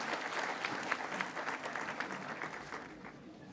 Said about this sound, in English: a round of applause for Justice Koteshwar Singh ji